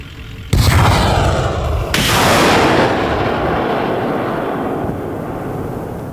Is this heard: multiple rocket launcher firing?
yes